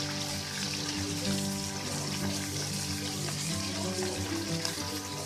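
Marinated small chuna machha fish fry in hot oil, giving a steady, dense crackling sizzle that stays loud and even throughout, with no voices.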